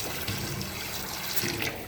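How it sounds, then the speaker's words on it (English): A tap runs with hot and cold water in a home brewery build, giving a steady, close, broadband rush of pouring water for the whole stretch, with no voices. "I just want to show you that I have hot and cold water here"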